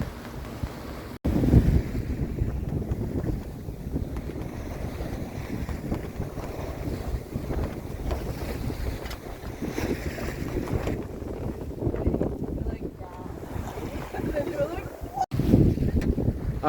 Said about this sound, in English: So we turned the motor back off, and we're sailing again.